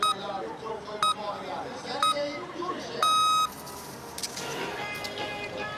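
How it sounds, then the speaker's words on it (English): Countdown beeps at the start gate of a cross-country skiing World Cup 15 km race in Gällivare, three short evenly spaced tones one second apart followed by a longer beep, heard over outdoor ambience and commentary. "Doesn't bother to wait for the long beep"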